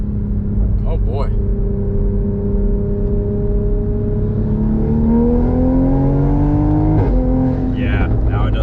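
A tuned 2020 Toyota GR Supra accelerates hard, its engine note climbing steadily in pitch with a brief shift, loud and close from inside the car, with people talking over it.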